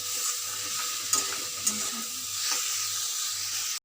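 Panch phoron spices sizzle and hiss steadily in a wok of mango chutney, with a few sharp pops and faint scraping, close and continuous.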